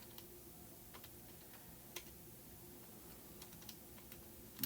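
Faint, scattered button taps on a calculator keypad, several light clicks spread irregularly over steady low background hiss, with no talking.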